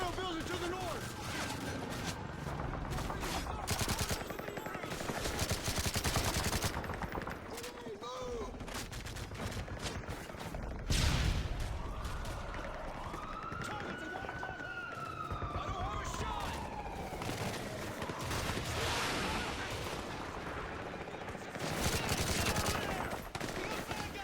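Gunfire from shooting enemies in Call of Duty MW3, bursts of automatic fire and scattered shots mixed with wailing sirens and game noise, dense and continuous with occasional voices.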